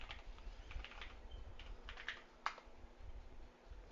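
Keys on a computer keyboard are tapped in a quick, uneven run of soft clicks at close range over low background hum, with no talking.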